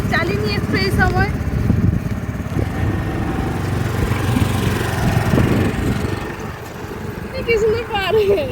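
A scooter engine drones steadily while being ridden, its buzzing motor continuous throughout, with a voice talking over it at the start and end.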